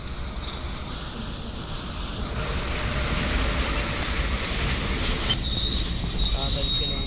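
A train pulls into a station platform in the Indian Bike Driving 3D video game, giving a steady rumbling roar that swells after the first couple of seconds with faint wheel squeal, continuous and fairly loud.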